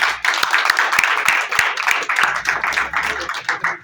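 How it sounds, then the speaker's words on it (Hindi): An audience applauds at a children's day celebration, a close burst of dense hand clapping that lasts a few seconds. "तालियां बजाइए।"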